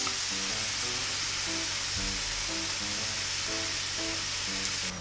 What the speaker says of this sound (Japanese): これぐらいの色になったら火止めてニンニクすりおろし入れます。